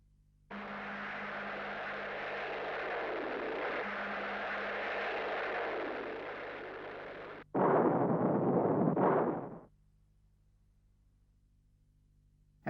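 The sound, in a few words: anti-tank missile explosion hitting armored target in test shot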